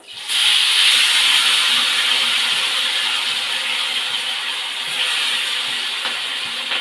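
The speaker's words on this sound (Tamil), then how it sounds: "இப்போ மீனை வறுத்துருவோம்" Marinated vaval (pomfret) fish frying in hot oil, a steady loud hissing sizzle that runs unbroken throughout and eases slightly toward the end.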